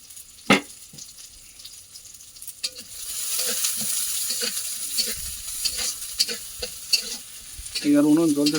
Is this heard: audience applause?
no